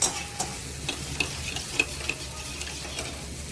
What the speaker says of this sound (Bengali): দুটো কাঁচা লঙ্কা দিয়ে দিলাম। ভালো করে ভাজা ভাজা করে নিতে হবে একদম সুন্দর করে।